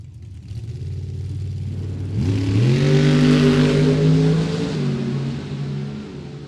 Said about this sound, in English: Gene Reynolds and his Camaro.